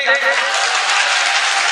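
Loud applause from an audience at a gathering honoring a chairman, a dense sustained clapping wash that fills the whole moment without pause.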